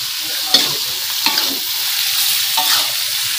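Tofu and salted fish sizzle steadily as they stir-fry in a pan, with a constant frying hiss and a few sharp scrapes and clacks of a utensil against the pan, close and loud, with no talking.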